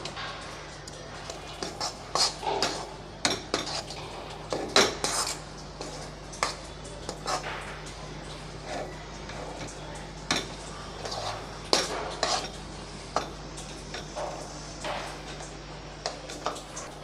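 Spoon scraping and clinking against a bowl while ground cardamom and cashews are mixed into a black rice laddu mixture, scattered irregular taps and scrapes over a steady low hum, close and moderately loud.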